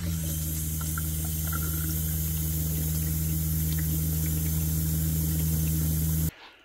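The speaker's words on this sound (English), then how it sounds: "2 minutes of flow on each individual tap." Tap water runs steadily from an RV kitchen faucet during a fresh water system flush, a continuous loud rushing flow with a constant low hum, which stops abruptly near the end.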